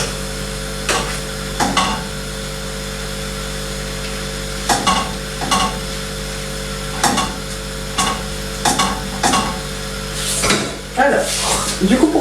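Small pieces of steak frying in a pan, with soft sizzling under intermittent stirring and scraping clatter, utensil knocks recurring every second or two, close by.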